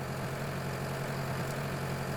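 A steady, droning idle from a 150-horsepower tractor engine in Farming Simulator 2013, a continuous low hum with no change in pitch, loud and constant throughout.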